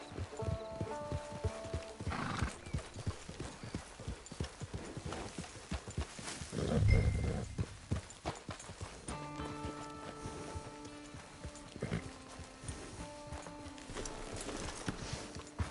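Horse hooves clip-clop in Red Dead Redemption 2, a steady walking rhythm of close, fairly quiet hoofbeats with a brief heavier thump and snort midway and faint tonal game music in the background.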